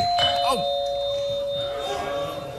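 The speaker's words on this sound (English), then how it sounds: "That's the doorbell." A doorbell chimes indoors in a TV talk-show setting, a clear two-tone ding-dong with a lingering ring, while a person briefly reacts over it.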